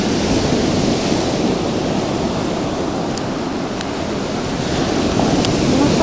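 Sea surf washes onto the shore at Odessa on the Black Sea, a loud, continuous broadband roar of breaking waves mixed with wind buffeting the microphone, with no voices.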